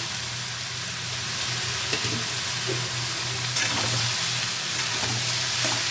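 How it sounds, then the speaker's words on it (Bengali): Chopped bottle gourd hits hot oil in a pan for a vegetarian lau ghonto, giving a steady close sizzle and frying hiss with a few faint stirring clicks and no talk. "এখন আমি এই তেলের মধ্যে লাউটা কাটা কেটে রাখা লাউটা দিয়ে দেবো"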